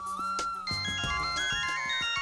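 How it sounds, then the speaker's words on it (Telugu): A phone ringtone plays, a bright electronic melody of rising and falling tones, loud and close, running continuously for a couple of seconds. "అమ్మో, డాడీ ఫోన్ చేస్తున్నారు,"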